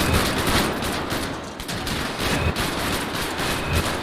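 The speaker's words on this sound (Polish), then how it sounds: "Strzały, strzały!" Dense, rapid gunfire crackles continuously in Grand Theft Auto V, layered shots and bursts at close range with a busy, loud mix of video-game combat noise.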